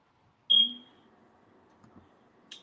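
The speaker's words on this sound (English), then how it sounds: "Somebody needs a battery in their smoke detector" A smoke detector gives a single sharp high chirp, its low-battery warning, loud and close, followed by quiet room tone and a fainter second chirp near the end.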